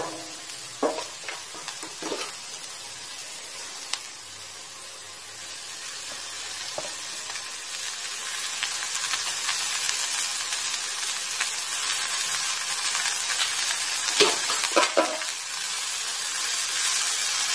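Onions and manathakkali greens sauté in a pan for keerai poriyal, a continuous close sizzle broken by a few sharp clatters of stirring, with no talking.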